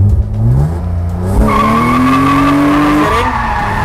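A car drifting in donuts, loud engine revving at high RPM under a rising, sustained tire squeal that swells and holds, close and continuous.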